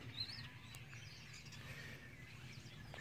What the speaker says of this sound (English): See all the birds up in there